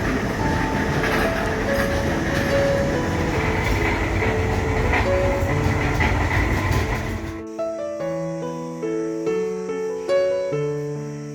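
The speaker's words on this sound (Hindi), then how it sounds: "उसके बाद ट्रेन तीन मूर्ति स्टेशन से भी गुजरती है, लेकिन वहां रुकती नहीं है।" Van Rani toy train running through Sanjay Gandhi National Park in Borivali, Mumbai, with a steady rumble and rattle of cars on the rails. The rumble drops off partway and a melodic tune takes over.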